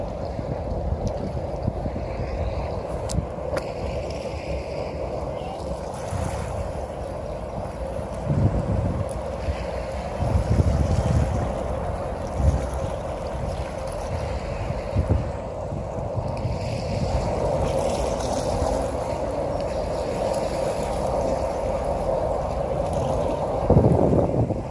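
A boat runs close beside the rapids in Niagara Gorge, its steady motor drone blended with rushing whitewater and gusting wind across the microphone, continuous and fairly loud throughout.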